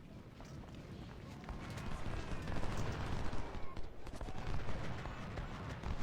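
Musket and cannon fire roll through a Civil War battle at Antietam in Ultimate General: Civil War, a dense, continuous crackle of volleys with scattered sharper reports, steady and moderately loud throughout.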